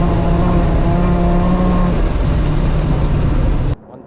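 Turbocharged five-cylinder rally car built by Mike, its engine loud and close as it pulls hard at full throttle with steady harmonic tones, then the sound cuts off abruptly near the end.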